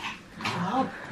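A dog growls in a short, low, rough burst that rises and falls, with faint background noise around it.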